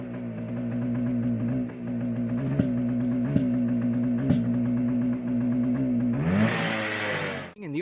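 Engine bogging and backfiring after an air filter was fitted, heard as a steady close mid-pitched idle with a few sharp pops spaced through it, then a rising rev at the end; no talk.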